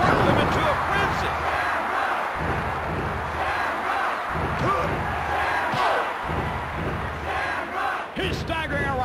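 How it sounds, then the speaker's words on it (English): A loud, continuous crowd roar fills an arena in the WWF Warzone wrestling video game, punctuated by occasional thuds, with voices mixed into the din throughout. "This crowd is deafening."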